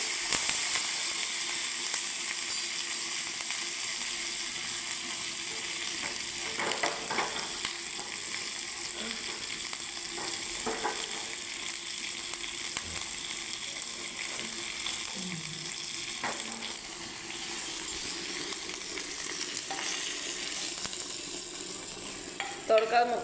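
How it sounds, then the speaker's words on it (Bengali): Mustard seeds, cumin, asafoetida, dried chilli and curry leaves crackle and sizzle in hot oil for a tadka, with a steady frying hiss and scattered pops throughout, close and continuous. "বাবারে কি চটার পটর ফুটছে"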